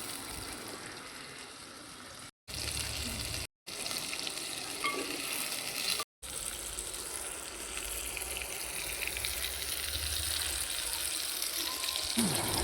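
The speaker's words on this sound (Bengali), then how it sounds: "উনুনে কড়া বসিয়ে তাতে তেল দিয়ে তেলটা গরম হলে পেঁয়াজ কুচি টমেটো কুচিটা দিয়ে দেব" Chopped onion and tomato fry in hot oil in a wok, making a continuous close sizzle with faint stirring scrapes, broken by a few very short dropouts.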